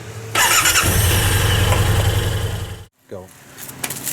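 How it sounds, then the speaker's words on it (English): A 2020 Yamaha Wolverine X2 XTR side-by-side engine cranks and fires, then settles into a loud, steady close-up running drone that cuts off briefly before faint rumbling and a voice follow. "Now we're going to let the engine run for a couple minutes."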